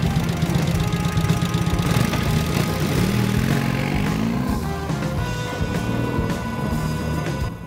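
A 1942 BMW R75 Sahara military motorcycle engine idles close by with a loud, steady, knocking throb and a slight change in pitch partway through.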